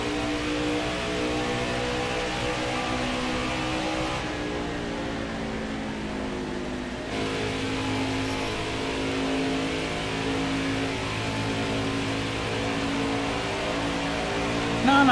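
Racing truck engine in the Truck of Tomorrow racing game at Pocono, a steady loud droning rev held throughout with slight pitch shifts as the truck runs on track.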